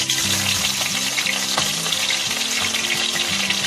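Mustard seeds, cumin, dry red chilies, curry leaves and green chilies sizzle loudly in hot oil in a pan, a dense, steady frying crackle with small pops throughout and no talking.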